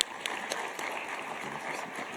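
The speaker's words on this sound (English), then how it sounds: "Please help me give a round of applause to our panelists." An audience at an agriculture finance panel session claps for the panelists, a soft, scattered round of applause heard from a distance in a hall, fairly faint and brief.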